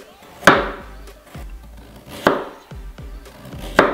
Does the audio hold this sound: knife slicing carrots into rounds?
yes